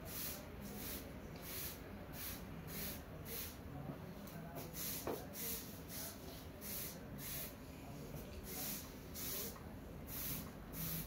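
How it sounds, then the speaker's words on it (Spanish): A hand-held water spray bottle mists terrace plants with a steady series of short hissing spurts, about one every half second, faint and close over low background noise. "Con el spray que tenemos aquí de agua, que ya he dicho."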